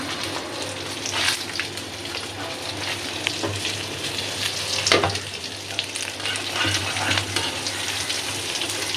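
Garlic and dried chilies are dry-roasted in a pan for bhorta, a steady close hiss and sizzle with occasional scraping stirs and soft knocks, and no voices.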